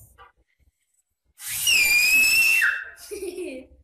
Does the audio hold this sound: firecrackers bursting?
no